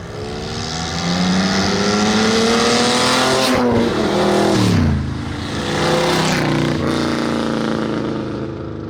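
A 7.4-litre big-block Chevrolet V8 revs hard and loud, rising and falling in pitch through several throttle blips, with a deep rumbling exhaust and no talk.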